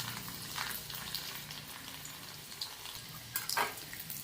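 Garlic frying in two spoons of hot oil in a kadai wok, a steady close sizzle and crackle that carries throughout, with a couple of brief louder stirring scrapes near the end and no talk.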